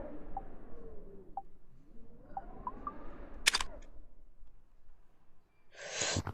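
A camera shutter snaps in the video game Gorilla Tag, one sharp click partway through followed by a brighter burst near the end, over faint breathing and low game ambience.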